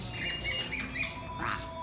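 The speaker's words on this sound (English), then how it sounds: "We're at a bird store and just enjoy it." Birds squawk inside a bird store, several harsh calls repeating at a moderate distance over steady shop background noise, with no talking.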